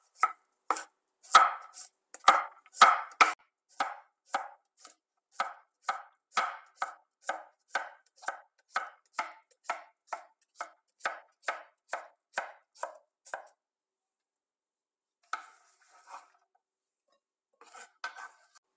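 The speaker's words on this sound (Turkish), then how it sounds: "1 adet salatalığım var. Sadece başlarını kesiyorum." A knife chops the ends off a washed, unpeeled cucumber on a cutting board, a quick run of close, sharp taps that slows into a steady rhythm and fades, then a few scattered strokes after a pause.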